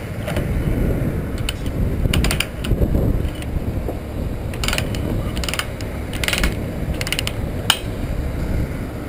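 Ratchet quick binders on 5/16 and 3/8 chains securing a steel load on a truck are released, giving loud nearby clicking ratchet bursts and metallic clanks over a steady low engine rumble.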